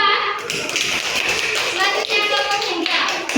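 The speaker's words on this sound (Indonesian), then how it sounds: "Tepuk tangan untuk kelompok 2." Fifth-grade primary school pupils clap in a classroom for a student group, a brief ragged round of hand claps mixed with children's voices.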